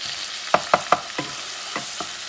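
Chopped garlic frying in a pan, a soft sizzle under a few sharp stirring scrapes, three quick ones close together then two more spaced out, with no talking.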